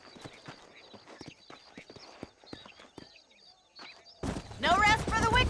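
Horse hooves clip-clop in a steady trotting rhythm in the video game Red Dead Redemption, close and crisp, before a burst of louder noise and a voice near the end.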